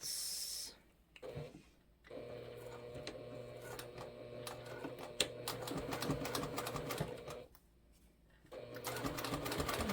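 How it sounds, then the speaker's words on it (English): A sewing machine stitches a fabric bag seam at a 3/8-inch allowance, with fast mechanical whirring in bursts separated by two short quiet pauses and a clicking hum throughout, close and fairly quiet, no one talking. "we're sewing this at 3/8"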